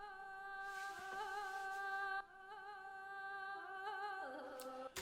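A dark ethnic-style vocal sample drenched in reverb swells in on a fade, sustained tonal notes with slight pitch bends ringing out quietly and alone.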